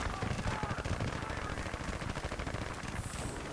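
Pistol shots in the military shooter Battlefield: Bad Company 2, mixed into a dense, continuous wall of gunfire and game noise with steady loud impacts throughout.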